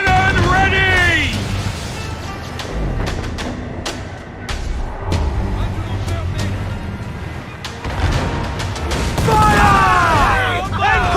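Ship cannons fire in Assassin's Creed IV: Black Flag, a series of heavy booms and thuds rolling across a naval battle, mixed with shouting crew voices and a steady loud din throughout.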